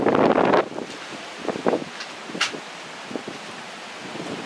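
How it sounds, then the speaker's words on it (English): Strong 22 mph wind buffets the microphone on a beach at Falmouth, Jamaica, with a loud roaring gust at the start, then steady rushing noise and smaller gusts beneath. "you can't hear me because it's 22 mile an hour winds"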